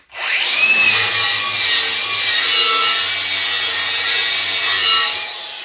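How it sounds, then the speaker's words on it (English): An angle grinder works across a steel surface to strip mill scale and corrosion before welding, a loud, steady abrasive whine held close for several seconds with no talking. "we want to go ahead and grind the top surface of this, get rid of the mill scale and all the corrosion"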